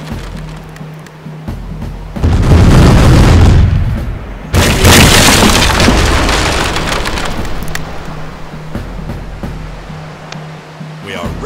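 Naval cannon fire in the East India Company sea-battle game on Mac: two loud, heavy booms a couple of seconds apart, each followed by a long rumbling, crackling wash of noise.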